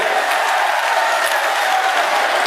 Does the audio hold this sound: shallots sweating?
no